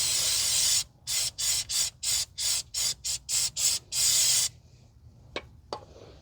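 Aerosol spray on a stuck plastic-mounted bracket of a 2011 Kia Forte 2.4 during EVAP canister repair: one long hiss, then about ten short rhythmic bursts, another long spray, followed by faint clicks and handling noises.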